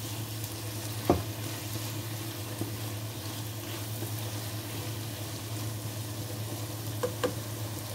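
Chicken and vegetables for chow mein stir-fried and mixed in a pan: a steady low sizzle throughout, with a few soft clinks of the utensil against the pan.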